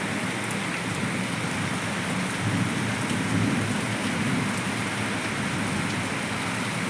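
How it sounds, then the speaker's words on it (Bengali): Heavy early-morning rain pours down at dawn in a steady, dense hiss that stays even and loud throughout, with no voices over it. "বৃষ্টিটা হচ্ছে, দেখেও শান্তি হচ্ছে।"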